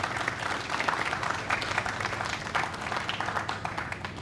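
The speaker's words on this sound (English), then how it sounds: "So please give PAHO a big round of applause." A crowd applauds steadily at a Guyana vaccination launch event, a dense, even patter of many hands that sounds somewhat distant and carries on throughout.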